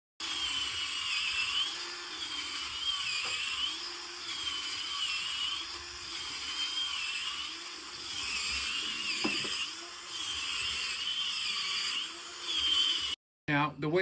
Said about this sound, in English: You have to be a little careful holding onto the drill as it's going because it's got a lot of torque to it